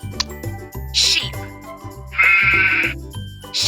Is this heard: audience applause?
no